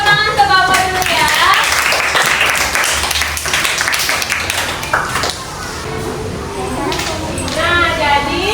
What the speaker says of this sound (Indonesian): Tepuk tangan ke Bapak dulu ya.